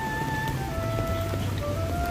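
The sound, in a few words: rain falling at a seaside promenade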